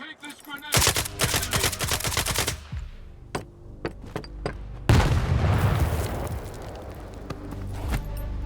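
Rapid automatic gunfire crackles in a dense burst, thins into scattered single shots, then a loud grenade explosion booms and leaves a long rumbling, debris-filled tail, all in a STALKER 2 Heart of Chornobyl firefight.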